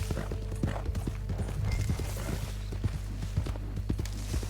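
Horse hooves clip-clop in the video game Red Dead Redemption, a steady run of near, regular hoofbeats over a low continuous rumble, with no talk.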